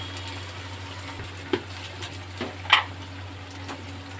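Chopped tomatoes go into a hot pan for a milk sev curry, producing a soft continuous sizzle over a low hum, punctuated by a few sharp clicks and taps of a utensil.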